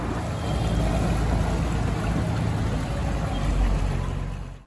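The Sea Kuttanad passenger boat, a Kerala government ferry running from the Alappuzha boat jetty toward Kainakari, churns steadily through the backwater, its engine and water rush forming a constant close wash without talk.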